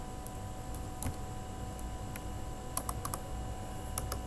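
Program code being typed on a computer keyboard, heard as sparse, light key clicks, some single and some in quick clusters, over a steady background hum.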